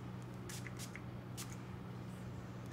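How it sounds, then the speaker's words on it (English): Several short hissing spray bursts from a Tatcha Dewy Skin Mist facial spray bottle, quiet and close, over a steady low hum. "I'm going to take the Tatcha Dewy Skin Mist Spray"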